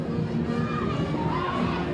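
A dense crowd murmurs and shouts at a Mardi Gras parade at Lee Circle in New Orleans, a steady wash of voices and children's calls, with talking mixed in.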